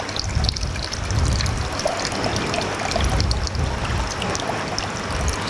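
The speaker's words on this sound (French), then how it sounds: "on se sert du petit serre-joint tout simplement pour venir régler le débit du goutte à goutte" Water trickling through an aquarium siphon tube whose flow is set with a small clamp, a steady close splashing dribble with faint irregular drips throughout.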